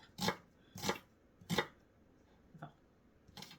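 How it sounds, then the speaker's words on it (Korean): A knife strikes a cutting board in four or five crisp, separate chops through an onion with short pauses between, close and fairly quiet. "다져주면은 쉽게 양파를 다질 수가 있어요."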